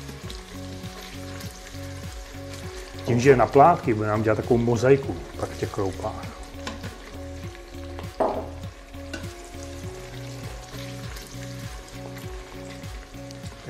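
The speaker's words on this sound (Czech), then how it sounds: "Takže dáme spěnit cibulku." Sliced onion gently sautéing in hot lard inside an electric pressure cooker, a steady soft sizzle with stirring scrapes as a person talks over it.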